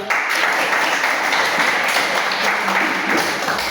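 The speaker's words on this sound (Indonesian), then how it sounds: "Oke, silakan duduk tepuk tangan." A classroom of children claps hands together, a dense, steady burst of applause-like clapping filling the room at close range for several seconds with no speech over it.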